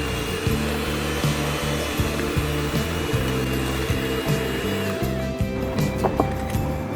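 An electric mixer beats buttercream icing made with milk and vanilla essence, producing a steady loud motor whir with a rhythmic rattling of beaters against the bowl throughout.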